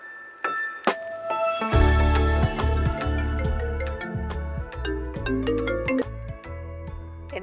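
A phone call rings out in a melodic ringtone, with a repeating chime pattern that sounds close and clear, with no one talking over it.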